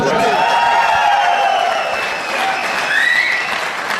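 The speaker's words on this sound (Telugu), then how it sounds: "మధ్య మధ్యలో క్లాప్స్ కొట్టిస్తా ఉన్నాం" An audience at a business meeting claps continuously, a dense, loud wash of applause that fills the whole stretch, with voices faintly mixed in.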